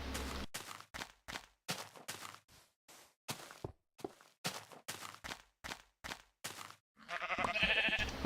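Sheep bleat in Minecraft, a series of short, clipped bleats repeating at a steady, uneven rhythm, close and clear, followed by a brief burst of other game noise at the end.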